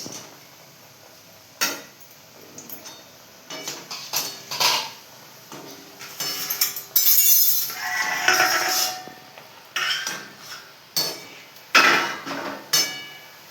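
Repeated metallic scrapes and clatters of a utensil stirring kucho nimki dough pieces frying in a wok, irregular bursts over a quiet sizzle, with no talking.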